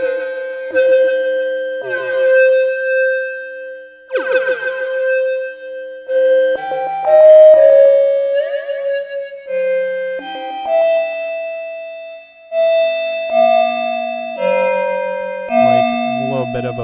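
Bell-like synth tones programmed on an Elektron Digitakt 2, ringing out as sustained, shimmering notes that shift pitch in a slow melodic sequence, each strike decaying with a metallic chime-like ring, loud and close with no voices.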